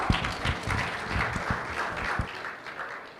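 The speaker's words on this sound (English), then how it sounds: "Let's clap for her." A small crowd at a youth forum in Kigali claps together, a loose patter of hands that carries steadily for a few seconds before thinning out.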